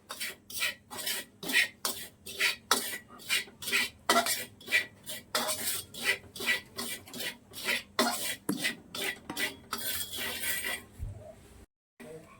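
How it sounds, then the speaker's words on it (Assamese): Semolina being dry-roasted in a hot wok for a sweet, with a spatula scraping and stirring in steady rhythmic strokes, close and fairly quiet, ending in a short pause. "ইয়াত সুজিটো দি কেনে গোল্ডেন ব্ৰাউন হোৱালৈকে মই ভালকৈ ভাজি লম।"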